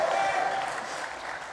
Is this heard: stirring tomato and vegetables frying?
no